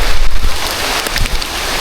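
Heavy rain pours during Typhoon Basyang, a loud, dense, continuous hiss of water with gusty wind buffeting the microphone throughout.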